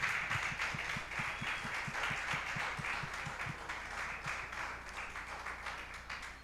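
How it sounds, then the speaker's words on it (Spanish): Audience applause at a church service celebrating mothers, a steady wash of clapping with rhythmic, evenly spaced low beats running through the first half. "¿Por qué no se da un fuerte aplauso a ustedes?"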